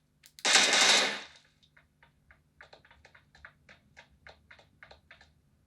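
Gunfire from the mobile shooter game PUBG New State or COD: one loud, dense burst followed by a string of fainter, rapid ticking shots in an uneven rhythm.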